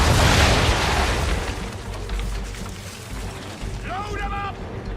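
A ship's cannons fire a broadside in Assassin's Creed 3: a loud, heavy boom opens the clip and decays into a rumbling wash, with creaking and a brief voice near the end.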